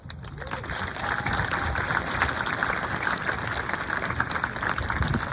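A crowd applauds students at a middle school graduation ceremony, sustained clapping that swells and holds steady at moderate volume for several seconds, with faint voices mixed into the hall's wash.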